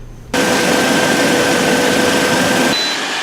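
A vehicle engine runs during a coolant flush, with the heater blowing hot: a loud, steady mechanical whir with a faint high whine, starting and stopping abruptly.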